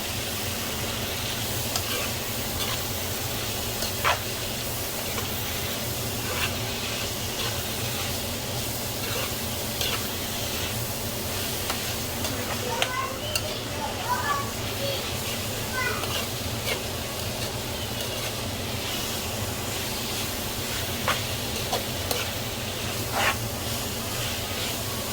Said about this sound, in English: Then I'm gonna stir it.